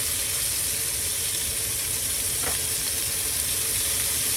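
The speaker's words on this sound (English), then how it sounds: "I think I'm going to turn it up just a little just to sear it" A steak sears in a pan on a hot plate inside a 2023 Flagstaff E-Pro 15TB camper, giving a steady, close, dense sizzle with one brief scrape midway.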